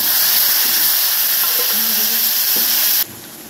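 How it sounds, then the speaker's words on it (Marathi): Tadka tempering for South Indian sambar dal hisses and sizzles loudly in hot oil as a steady close-up wash of frying noise, cutting off abruptly near the end. "या प्रकारे मस्त असा तडका द्यायचे डाळीला."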